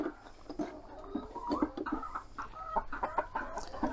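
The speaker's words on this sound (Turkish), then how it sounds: "genç tavuk bu" Young hens cluck steadily inside a naturally cooled Turkish farm pen, a busy overlapping chorus of short clucks and murmurs at moderate distance, with no talk over it.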